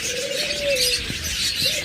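Healthy, active adult finches in a cage chirp steadily, with a sustained tonal call and scattered bright tweets over a constant busy background.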